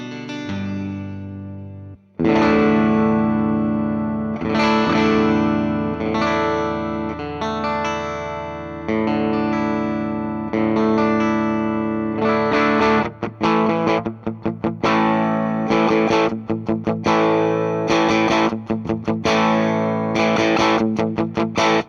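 A Fender Tom Morello "Arm The Homeless" electric guitar with its tone knob turned down plays dark, muffled chords and single notes, strummed with a distorted, rounded tone that lacks bright treble.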